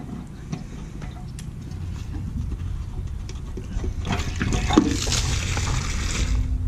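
Water gushes and patters steadily out of a travel trailer's water heater after the anode is pulled, a broad splashing wash that swells louder toward the end.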